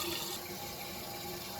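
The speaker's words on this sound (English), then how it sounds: "right now I'm filling up the tank with water" Water runs steadily into a car fuel tank being rinsed of rust, a continuous hollow rushing and splashing at close range with no pauses.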